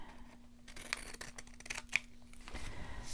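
Scissors snip through paper for a junk journal page, a few quiet, close crisp cuts and rustles alone with no talking.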